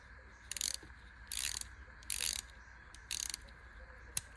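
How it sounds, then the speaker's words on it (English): A SwissTech TaktStock multi-tool bit driver ratchets in four short bursts of rapid, crisp clicking, close and clear, with a single sharp tick at the end. "But it's ratchet."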